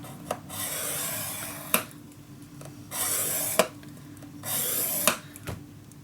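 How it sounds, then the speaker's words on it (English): A scoring tool is drawn along paper in three repeated, even rasping strokes, each one beginning with a sharp tap, close and clear with no talking. "So I am going to score my next line a 1/2 inch further."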